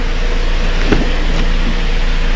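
A Jeep Compass, just fitted with a new auxiliary stop/start battery, pulls away with a steady, moderately loud engine and road hum inside the cabin and a couple of brief soft knocks, with no talking.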